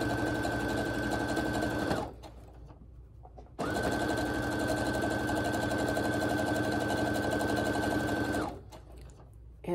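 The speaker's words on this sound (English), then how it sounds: "I'm just going to keep sewing right down so that the jelly roll strip will end up on one side of all of these blocks." A sewing machine stitches a jelly roll strip onto a row of quilt blocks in two sustained runs of fast, even needle whirring, separated by a short quiet pause before it starts again.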